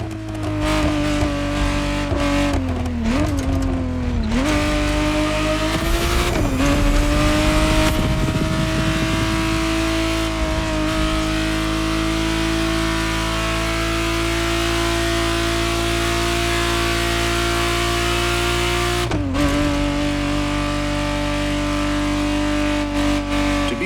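A 1991 Ferrari 512 TR Testarossa in The Crew Motorfest video game drives hard, its engine droning loud and steady with rising revs and a few quick gear-shift dips, alone without talk.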